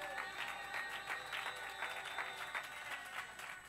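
Rhythmic, sustained hand clapping from a church congregation at a Sunday celebration service fills the room, even and continuous, somewhat distant and moderately loud.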